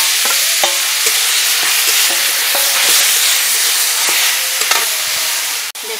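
Grated bottle gourd sizzles loudly in a frying pan with fried cashews and cardamom for a milk payesh, while a spoon scrapes and stirs in repeated strokes over the steady hiss.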